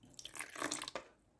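Water splashes and trickles briefly into a bowl of homemade slime mixture, a quiet, close pour with a few drips at the end and no voices.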